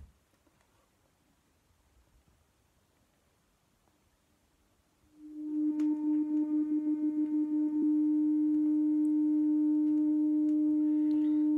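After several seconds of faint crackling groove noise, a stylus alignment test record plays a loud, pure, steady test tone that starts abruptly and holds unchanged to the end, with no talk.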